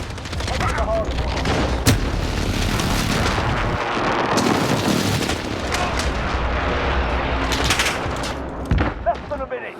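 Sustained machine-gun bursts and explosive booms fill a Hardpoint match on the Shipment map in Modern Warfare as a precision airstrike hits, loud and chaotic, with an announcer's voice briefly over the fighting.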